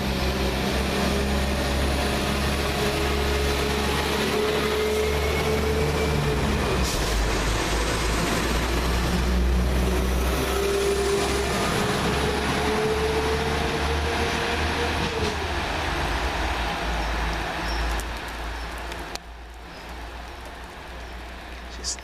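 A Class 172 London Midland diesel unit departs from a station, its engine droning low and steady as it pulls away, with faint speech briefly heard.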